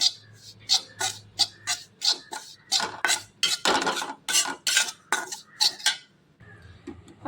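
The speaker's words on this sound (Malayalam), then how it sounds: "പച്ചമണം പോകുന്നവരെ ഒന്ന് മൂപ്പിച്ചു കൊടുക്കുക" Spice powders, chilli and coriander, roasting in a pan while a spoon stirs them: repeated metallic scraping strokes in a quick, steady rhythm, close up, with a short pause near the end.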